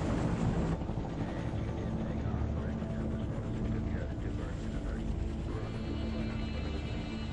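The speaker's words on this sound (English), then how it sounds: "At 10:35 a.m., the first U.S. choppers lift off and begin the 13-minute flight to the landing zone." U.S. military helicopters lifting off and flying toward a landing zone, a steady loud rotor and engine roar that fills the whole clip without pause.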